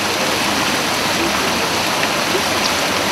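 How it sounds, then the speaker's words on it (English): Water flowing in a city fountain: a dense, steady rushing and splashing like a river, loud and close, continuous with no talk. "Now what we're doing here is listening to the river inside the fountain."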